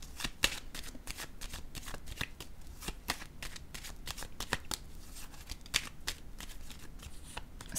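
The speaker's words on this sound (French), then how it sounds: "Attendez une minute, je vais piger une carte sur le voleur." A deck of oracle cards being shuffled by hand before one is drawn, a close, continuous run of crisp riffling flicks and slaps, quiet overall with no speech.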